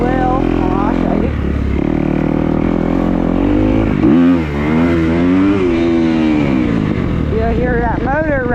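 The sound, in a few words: motorcycle engine revving during a wheelie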